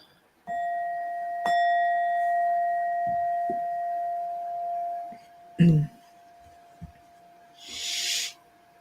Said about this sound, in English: I use this brass bowl for some of the sound healing, and it sounds like this